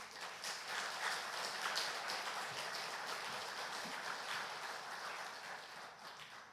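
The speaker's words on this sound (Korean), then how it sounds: "우리 나오실 때 힘찬 격려의 박수 한번 할까요?" Applause from a church congregation welcoming a guest preacher to the pulpit, dense steady clapping filling the room at moderate volume with no speech over it.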